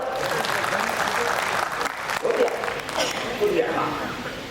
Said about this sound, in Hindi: एक बार ताली बजा के बता दो।